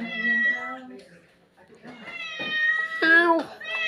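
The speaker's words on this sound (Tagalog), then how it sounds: "Ang dami pusa" Several cats meow in overlapping, varied calls, close and fairly loud, with a brief quiet gap midway and people talking among them.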